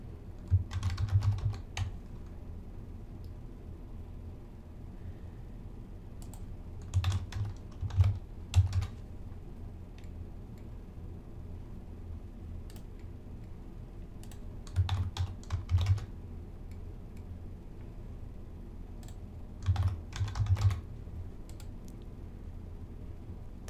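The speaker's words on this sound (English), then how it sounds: "Type your four answer choices." Answer choices are typed on a computer keyboard in four separate short bursts of close key clicks, with quiet stretches and a low hum between them.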